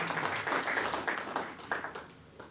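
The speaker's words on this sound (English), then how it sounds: "So a round of applause to our MC." Conference audience clapping for the master of ceremonies at a project management annual conference, a fairly faint, uneven patter of hands that tapers off toward the end.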